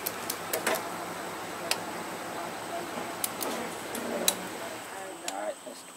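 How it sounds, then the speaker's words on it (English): A torque wrench tightens cylinder head bolts to 22 foot-pounds on a 2004 Chevrolet Trailblazer 4.2L inline-six, producing sparse sharp clicks and ratcheting ticks close by, scattered unevenly over a quiet garage background. "we're going to torque down some bolts. First pass, 22 foot-pounds."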